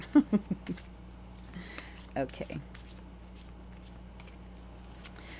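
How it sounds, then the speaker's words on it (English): Tarot deck being shuffled, a quick run of soft papery riffles and taps near the start and again midway, close and quiet beneath a steady low hum, with a brief spoken word. "I'm going to shuffle, so I'm not doing them in order"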